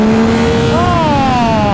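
Yamaha MT-09 motorcycle with an automatic gearbox, on wet tyres, revving hard against its rev limiter, a loud sustained engine whine whose pitch holds and then wavers, with wind noise throughout.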